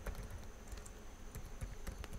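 Soft, steady keystrokes on a computer keyboard, a quick irregular patter of clicks under a low background hum, close but quiet.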